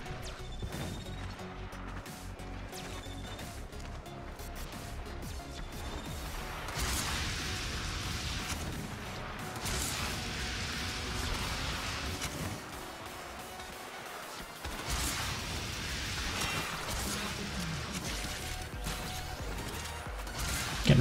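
Turret fire hits the player in the game Warframe, a run of repeated crashing and thwacking impacts with mechanical clatter, fairly loud and continuing through the scene amid other game sounds.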